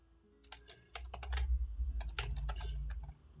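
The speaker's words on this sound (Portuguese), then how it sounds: "SMR de teclado, peraí." Clattery keystrokes on a computer keyboard come in quick bursts, close and crisp, with a short pause between two runs of typing.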